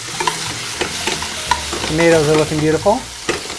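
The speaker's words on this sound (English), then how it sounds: "to help keep the idea of frying the tomatoes in olive oil" Tomatoes fry in extra virgin olive oil in a pan, giving a steady close sizzle with bursts of stirring and clattering as someone talks over the cooking.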